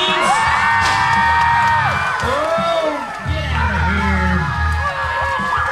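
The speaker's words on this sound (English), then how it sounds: "Would you give that young man a round of applause?" A crowd at a county fair bull ride in Tazewell County cheers, whoops and yells loudly and continuously, with excited voices rising and falling over the arena noise.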